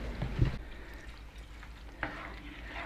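Shepherd's pie filling of ground meat with tomato, spices and Worcestershire sauce simmering in a pan, a soft steady sizzle with a few clinks and stirs of a utensil against the pan, close and fairly quiet.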